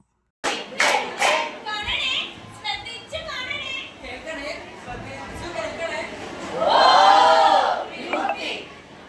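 An audience at a school anniversary celebration applauds a skit, with scattered claps and crowd chatter that swell into a burst of cheering and clapping near the end. A children's voice calls out in the mix.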